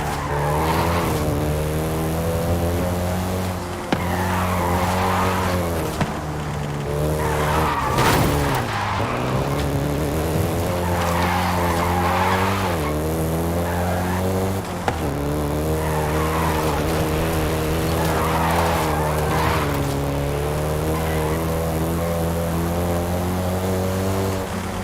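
A Volkswagen Golf GTI in the racing game Forza Horizon 5 drives hard, its engine droning loudly and rising and falling through gear changes, with repeated tire squeals and skids over nearly half a minute, and no talk.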